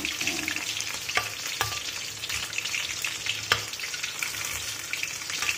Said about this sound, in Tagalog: ito guys, luto na yung ating fried chicken